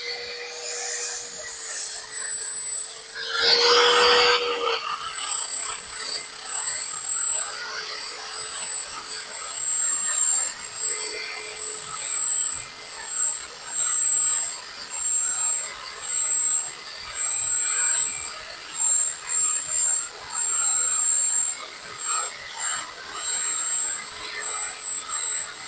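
A low-budget angle grinder motor cutting, with a steady, thin, high whine and a rough, harsh burst early on, then a continuous buzzing drone that pulses slightly in loudness.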